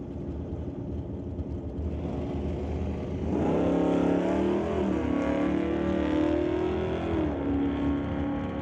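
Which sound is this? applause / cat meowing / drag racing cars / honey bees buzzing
drag racing cars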